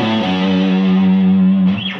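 A distorted electric guitar plays a sustained, singing pentatonic fill, one long held note, loud and close, ending in a quick bend.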